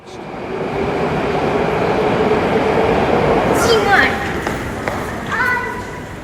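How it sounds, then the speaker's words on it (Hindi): Moscow underground metro station with trains: a loud rumbling rush of a train moving through the station, with rising squeals and brake-like whines near the end. "तो मैं मॉस्को के एक अंडरग्राउंड मेट्रो स्टेशन में जा रहा हूँ"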